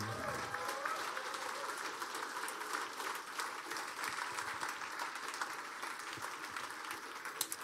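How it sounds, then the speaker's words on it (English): A crowd applauds the winner of the Mercedes-AMG Motorsport eRacing competition, steady clapping throughout with a faint voice or two mixed in beneath it. "Big applause for the winner of the Mercedes-AMG Motorsport eRacing competition."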